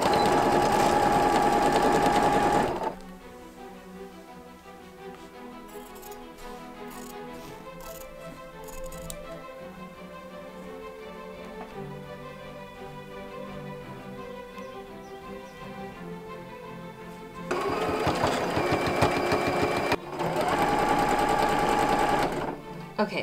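Sewing machine stitching straight seams on Regency stays, loud whirring bursts at the start and end with a long quieter stretch of soft mechanical ticking between them.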